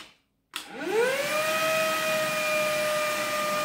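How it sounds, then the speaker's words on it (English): Handheld cordless wet dry vacuum cleaner clicks on after silence, its motor whining up quickly to a steady, loud high-pitched hum that runs alone and close. "To start the vacuum, just press the trigger."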